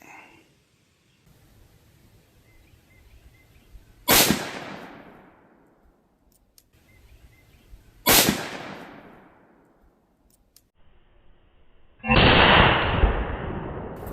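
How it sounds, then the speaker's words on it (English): Three sharp, loud .44 Magnum revolver shots with 240 grain soft point loads fired into watermelons outdoors, each a sudden crack trailing into a decaying echo, spaced about four seconds apart, the last followed by sustained broadband noise. "now for the 44 mag, 240 grain soft point"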